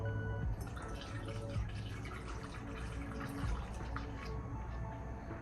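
Waterless wash mix being poured into a spray bottle, a continuous splashing, gurgling trickle of liquid filling a container, steady and close with no speech.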